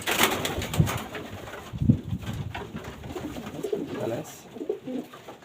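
Pigeons coo close by in a racing pigeon loft, with low repeated cooing and soft bird calls over several seconds while someone talks throughout.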